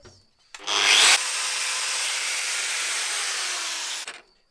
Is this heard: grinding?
yes